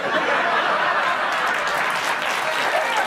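A comedy show audience applauds in a loud, dense, sustained burst, mixed with laughter and chuckles throughout.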